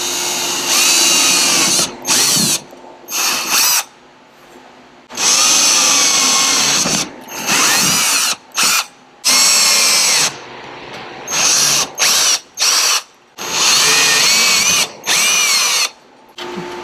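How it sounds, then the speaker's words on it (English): A power drill driving bolts to fasten a mounting bracket to the hull of an Old Town BigWater 132 kayak; loud, close whirring bursts repeat in an irregular on-off pattern, some long and some short, with brief quiet gaps between. "So we just bolted down our mounting bracket here."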